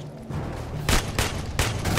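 Weapons fire in Aliens: Colonial Marines in loud, rapid bursts, with several sharp volleys breaking over a steady rumble.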